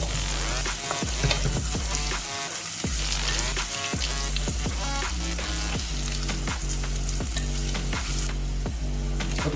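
Onion frying in a pan for Mangalore-style crab sukka gives a loud, continuous close sizzle, with repeated scraping stirs at a steady rhythm and no talking.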